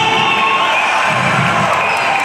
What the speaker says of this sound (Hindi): एक बार जोरदार तालियां हो जाए वरुण धवन के लिए